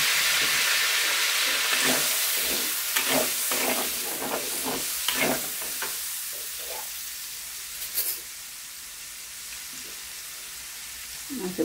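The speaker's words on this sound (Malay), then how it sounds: "Masukkan bahan yang kita kisar." Ground spice paste sautéing in oil for ayam masak merah, with a loud crackling sizzle and stirring clatter early on that gradually softens to a quieter hiss.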